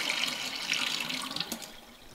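Rinse water poured out from a container of raw pork in a kitchen, a continuous faucet-like gush of splashing water that slowly eases off toward the end.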